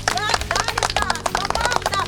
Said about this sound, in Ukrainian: Аплодисменти їм!